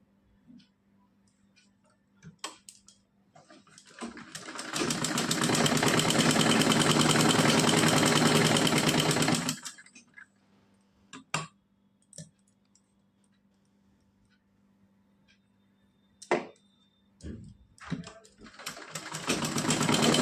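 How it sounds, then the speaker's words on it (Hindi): A sewing machine stitches folded, doubled net fabric, running in one loud steady burst of rapid whirring stitches, with scattered clicks and handling taps before and after and a brief restart at the end. "यहाँ पे आधा इंच इस तरह से मोड़कर सिलाई लगानी है।"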